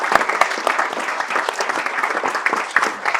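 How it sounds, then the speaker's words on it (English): An audience at a State of the City address in Pittsburg, Kansas claps steadily for a few seconds, with dense, sustained applause that stays loud throughout and carries no speech. "why don't we give everybody a round of applause?"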